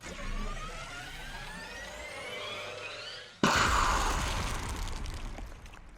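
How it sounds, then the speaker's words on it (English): A bomb detonates in a gym in the video game Hundred Line: Last Defense Academy. A rising whine builds for a few seconds, then cuts to a sudden loud broadband blast that rumbles on and slowly fades. "A vicious explosion echoed throughout the gym as the bomb inside Eito was detonated."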